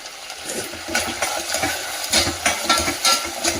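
Onions frying in a pan, a close, steady sizzle with bursts of stirring and scraping that rise and fall every half second or so, with no voices.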